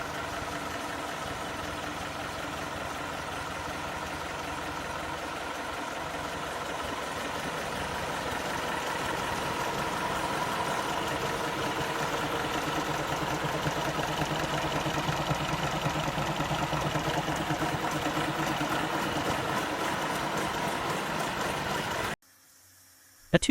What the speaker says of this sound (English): Featuring a V8 engine, six-wheel drive, and a mounted crane